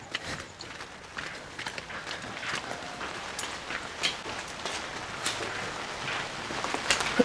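Steady rain falling after a long hot spell at a rural Vietnamese house where workers are roofing, a dense, even hiss with scattered drop taps and occasional soft footstep-like thuds, no voices.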